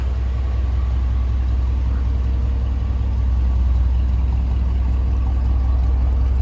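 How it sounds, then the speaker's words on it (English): A 1956 Chevrolet Bel Air with a 265 V8 and three-on-the-tree manual idling, a steady low rumbling engine note held evenly from start to finish with no revving. "This car idles really nice."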